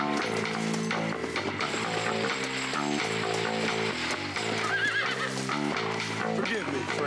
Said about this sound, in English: I need my horse here pretty quick.